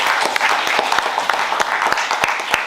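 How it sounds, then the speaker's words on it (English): Applause at a university project presentation event, a dense crowd of clapping hands that is steady and fairly close, sustained across the whole stretch without speech. "a final applause for"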